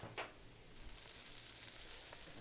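A green chile Juicy Lucy burger patty frying on a hot griddle, with a steady close sizzle throughout and a few faint scraping or tapping touches.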